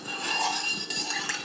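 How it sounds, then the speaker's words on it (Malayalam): A spoon stirring in a pan of oil while frying wheat-flour ball snacks, giving a soft continuous sizzle with a couple of light metallic taps, close and quiet. "നല്ലോണം ഒന്ന് സ്പൂൺ കൊണ്ട് ഇളക്കിയിട്ട്"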